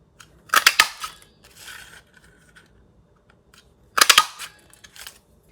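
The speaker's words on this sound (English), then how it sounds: "I'm going to punch 2 out of this striped piece." A paper punch cuts shapes from striped cardstock in two separate presses, each a crisp, close clunk with quick snapping clicks, followed by a softer rustle of paper, in an otherwise quiet room.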